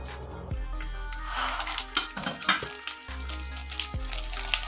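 Green papad made from leftover rice frying in refined oil in a kadai, a continuous crackling sizzle with bursts of bubbling and occasional utensil clinks, close and moderately loud, no talking.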